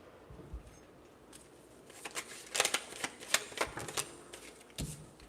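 Tarot cards are shuffled by hand, giving quiet scattered flicks at first, then a burst of crisp rapid riffling clicks and slaps that stays close and moderately loud before trailing off.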